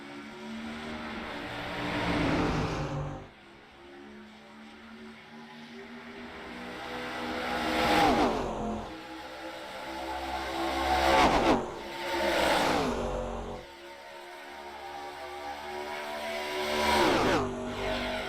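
Sim race cars at Chicagoland roar at the start in a sim racing game, engines swelling and fading in several loud passing waves with rising pitch sweeps.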